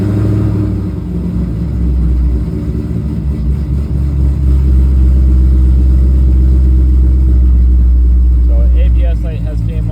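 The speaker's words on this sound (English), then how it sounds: "first thing we're gonna do is see what comes up when we start the car" A C6 Corvette engine starts and settles into a steady, loud, deep idle rumble that runs throughout, with a faint electronic chime near the end.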